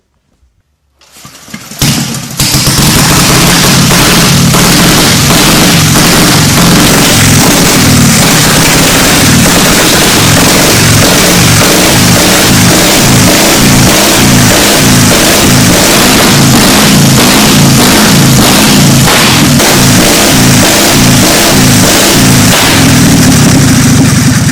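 A warm vintage motorcycle engine with spark advanced and choke off catches after a brief start and settles into a loud, steady, rhythmic running chug that continues unbroken at close range.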